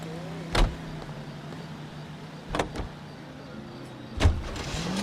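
A car in the video game L.A. Noire hums steadily at a low level, with three sharp thumps spaced a couple of seconds apart, like doors or bumps, and no voices.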